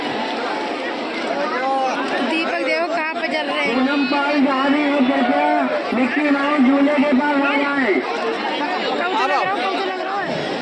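A dense crowd chatters all around, many overlapping voices close by in constant babble, with one person speaking nearby over the noise.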